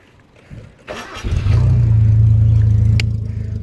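A car with its old fuel tank in the engine bay cranks briefly, then catches and settles into a loud, steady low idle up close.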